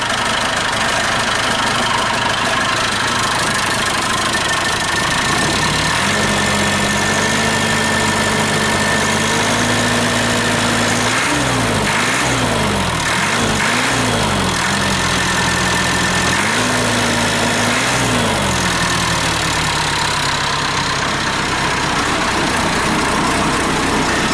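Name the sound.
turbo diesel engine idling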